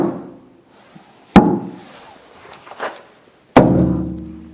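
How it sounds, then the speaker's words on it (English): Two sharp, solid knocks on a car cowl coated with Lizardskin ceramic insulation, each a dull, deadened thunk like rapping on a door, with a faint tap between them and no ringing echo after. "listen to the cowl here. I mean, that's like knocking on a door."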